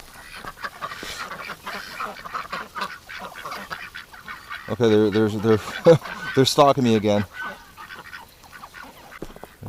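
Several domestic ducks waddle close and call with a cluster of loud, nasal quacks near the middle, over soft outdoor background; a person talks briefly before the calls.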